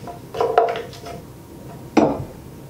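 A dry rub is mixed with maple syrup and soy sauce in a bowl for BBQ pork shoulder, heard as two brief bursts of utensil clinks and scraping against the bowl, separated by a quiet pause.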